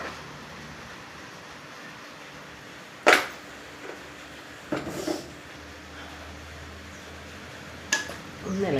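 A spoon stirring brinjal rasavangi curry in a cooking pot, three sharp scraping clinks spaced a few seconds apart with softer rustles between them over faint background hiss.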